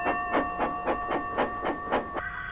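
Toby the steam engine puffs along with eight steady, evenly spaced chuffs over a sustained tonal hum, close and moderately loud, with no speech.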